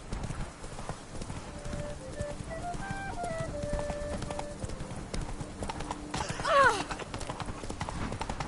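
Roach, the horse in The Witcher 3: Wild Hunt Blood and Wine, clip-clops along with steady rhythmic hooves while a musical tone plays behind it and a short whinny-like sweep rises near the end.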